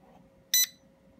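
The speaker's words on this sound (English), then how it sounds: "it was supposed to have double beeped, but it just continues doing this forever." A Ktaxon gun safe keypad gives one short, sharp electronic beep, bright and clear over a quiet background hum.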